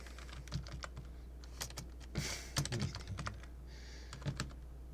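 Rapid, uneven clicks from a computer keyboard being typed on, with occasional louder clusters of key strikes, close up over a low steady hum and no talk.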